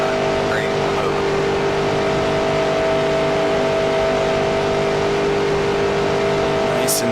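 Race car engine at full throttle at Daytona in the NR2003 racing game, a steady loud drone holding high revs without letup, with a voice talking over it.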